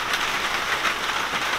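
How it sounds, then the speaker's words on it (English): Steady rain falls on a greenhouse during a downpour, a continuous broadband hiss of drops pattering on the roof, fairly loud and even throughout with no talking. "It is starting to rain outside."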